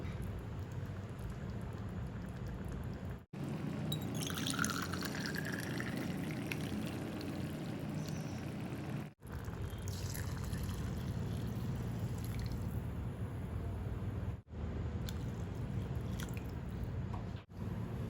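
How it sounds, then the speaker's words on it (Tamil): Water pours steadily into a pot for Hyderabad kuska rice, a continuous rushing splash that runs on for many seconds with brief breaks, fairly quiet and without voices. "ஒன்றரை கிளாஸ் அளவுக்கு தாங்க நான் இப்போ தண்ணி சேர்த்துருக்கேன்."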